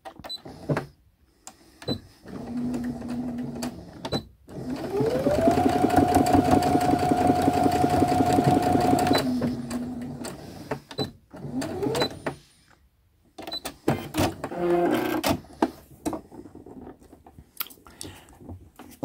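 A sewing machine stitches the short side of a shirt along a narrow hem 1 cm from the edge, running in a steady whirring burst that rises and holds, with shorter runs before and after and quiet gaps between.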